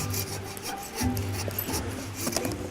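A hand saw rasps back and forth through a Christmas tree trunk, close up, with a steady rhythm of rough strokes and no talking.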